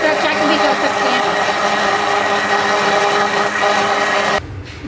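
A blender churning cream into homemade butter runs as a loud, steady whirring drone close by, then cuts out abruptly near the end, leaving a softer background.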